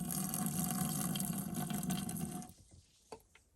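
Steady rush of water pouring out of a boat's tube during winterizing for a couple of seconds, then it cuts off, leaving faint drips and trickles.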